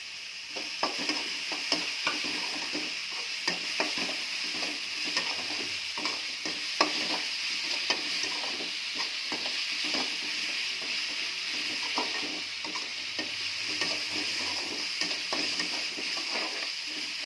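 Onions and tomatoes sauté in oil in a pan with salt, giving a steady close sizzle and frequent spoon scrapes and taps against the metal throughout.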